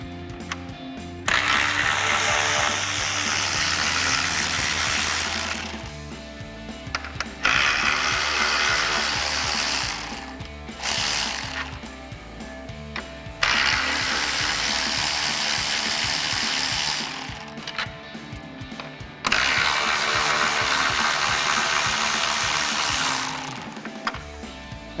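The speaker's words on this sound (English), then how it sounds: "remove the 4 10 millimeter bolts holding the upper portion of our grille in place using our 10 millimeter socket on our ratchet" Hand ratchet fitted with a 10 mm socket loosening the upper grille bolts on a Ford Bronco, a steady run of close mechanical clicking in several bursts separated by short pauses.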